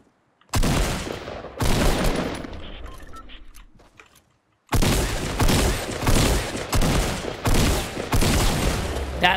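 Gunfire in a Fortnite 50v50 match: loud, close bursts of rapid shots in several volleys, a short quieter gap, then repeated heavy shots in a steady rhythm.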